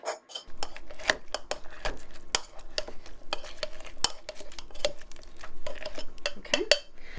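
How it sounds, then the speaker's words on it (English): A muddler crushes lemon and spearmint in a glass for a whiskey smash, a close run of irregular knocks, taps and grinding scrapes against the glass with short pauses. "I'm going to take the muddler and kind of muddle that down to get the oils and juices to come out"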